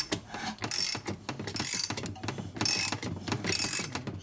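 A 1949 Harley-Davidson Panhead 74ci engine with its valvetrain cycling as it is turned over by hand, giving repeated ratcheting mechanical clicks and clacks in a steady rhythm, close and moderately loud.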